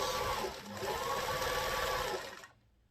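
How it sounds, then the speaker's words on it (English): A sewing machine runs steadily as a blouse panel is stitched, a continuous mechanical whir for about two seconds that slows and stops near the end. "I've now put it in the machine, so now let's sew it together."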